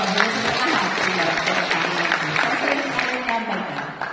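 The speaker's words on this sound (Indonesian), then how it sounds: "Tepuk tangannya harus full ya Pak ya, energi" Audience applause at a provincial village-enterprise event in East Java, a steady, full wash of many hands clapping throughout, loud and continuous with a faint murmur of voices underneath.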